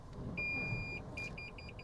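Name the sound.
Toyota Yaris Cross Hybrid parking sensor beeping in flood water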